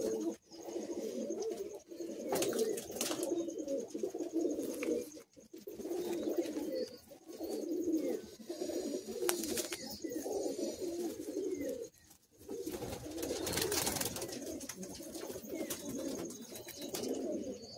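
New Madrasi high-flying pigeons in a Kolkata loft coo continuously in overlapping low rolling calls, close by, with brief pauses and occasional clatter.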